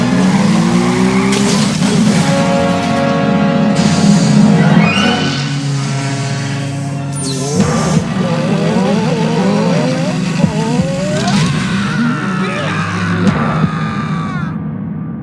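A cartoon car drives off in the video game Goodbye Deponia, its engine revving loud and close with brief tire squeals while characters talk over it.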